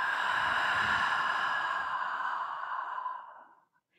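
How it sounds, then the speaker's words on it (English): A long, breathy open-mouth exhale during yoga breathing in a Kundalini meditation, steady and close, fading out into silence near the end. "Inhale through the nose. Open mouth, exhale."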